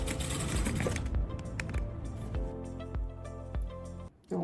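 A sewing machine runs in short mechanical bursts while stitching the shoulder seam of a V-neck tank top, its rapid needle chatter close and fairly loud before cutting off near the end.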